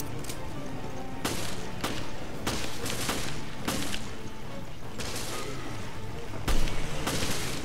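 Rapid gunfire sounds out in the Resident Evil Revelations video game as a string of sharp, irregular shots punches through a dense, noisy combat background over several seconds.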